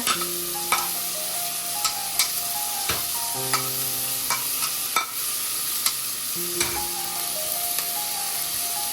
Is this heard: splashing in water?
no